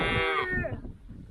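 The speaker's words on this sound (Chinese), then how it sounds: "你看这牛，哞" A calf mooing on the Inner Mongolia grassland, one drawn-out close moo with a falling tone that fades into quiet outdoor background.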